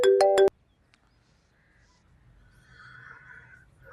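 A phone rings with a short electronic tone that pulses three times quickly and loudly, then stops, leaving near silence and faint background sounds.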